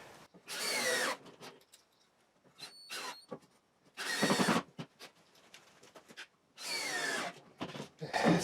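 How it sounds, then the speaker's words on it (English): Power drill driving 2.5-inch wood screws into timber for a portable fence, heard as three loud, sustained whirring bursts of about a second each, separated by quieter gaps with brief clicks and handling knocks. "I'm just going to use wood screws"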